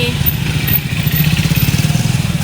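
A motorcycle engine putters loudly nearby with a steady pulsing throb, the sound of a bike passing close by.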